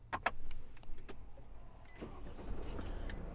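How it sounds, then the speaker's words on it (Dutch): A Mercedes Sprinter service van heard from inside the cab: a few sharp clicks and electronic chirps, then the engine fires on its own and settles into a low, steady hum. "En hij start helemaal vanzelf."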